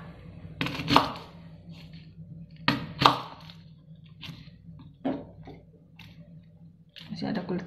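Knife chopping shallots coarsely on a cutting board for shrimp cheese perkedel, a few sharp irregular knocks and crunches spaced across the moment, close and fairly loud over a low background hum.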